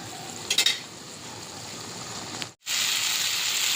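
Vegetables fry in a pan with paste made from ground prawn heads, a steady close sizzle with a few utensil scrapes early on, briefly cut off before resuming louder.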